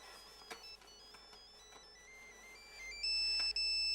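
A mobile phone rings with a melodic electronic ringtone, a series of stepped tones that grows louder and more insistent toward the end, with no talk over it.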